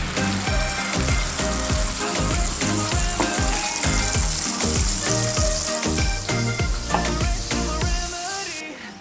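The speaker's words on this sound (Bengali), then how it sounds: "শুকনো লঙ্কা আর কালো জিরে ফোড়ন দিয়ে এর মধ্যে এবার দিয়ে দেবো আমরা আগে থেকে তৈরি করা পেস্টটা" Green banana peel paste dropped into hot oil tempered with dried chilli and nigella seeds, crackling and sizzling loudly up close with stirring, fading at the end.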